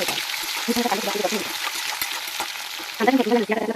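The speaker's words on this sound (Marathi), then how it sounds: "थोडंसं तेलातमध्ये परतून झाल्यानंतर त्यामध्ये मी इथे पालीचा कांदा घेतलेला आहे" Shallots frying in a little oil, a steady close sizzle with stirring, while a person talks throughout.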